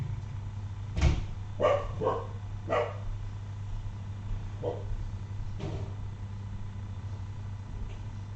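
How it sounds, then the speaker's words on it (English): A dog indoors gives a few faint, sharp barks in a loose cluster near the start, then a couple of scattered yaps, all over a steady low hum. "It's the dog voicing its displeasure"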